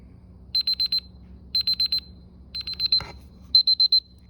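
Fuel safety timer device buzzer beeping in sharp, loud bursts of four rapid high beeps, repeated four times about a second apart, with a brief click between the third and fourth sets.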